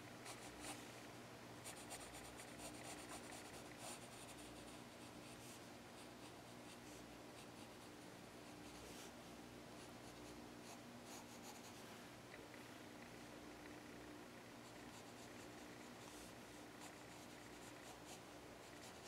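Pencil drawing on paper with light strokes and eraser rubbing, a continuous close scratchy texture with occasional sharper scrapes and no talking.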